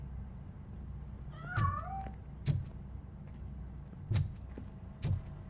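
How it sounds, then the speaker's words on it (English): A cat in the Robocop Rogue City video game meows once with a rising, drawn-out cry, over a low steady background hum with several soft thumps. "That cat must be hiding inside."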